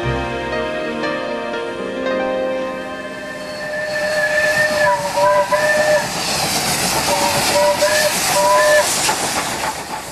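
A South African steam locomotive sounds its whistle in a string of short and long blasts over the loud hiss and chuff of the engine, after a sustained opening tone.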